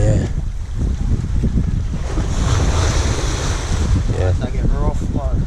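Rough sea surf and strong gusting wind roar continuously on a beach road in Montego Bay, loud and close with heavy microphone wind buffeting, and a voice briefly talks over it near the end.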